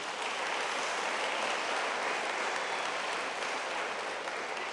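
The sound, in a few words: audience applause at a graduation ceremony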